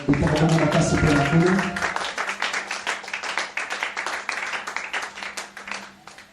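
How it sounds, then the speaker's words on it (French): Congregation at a church service clapping and cheering for the Lord, dense applause with voices over music at first, then the music drops away and the clapping continues in a steady wash. "Acclamez très fort pour le Seigneur"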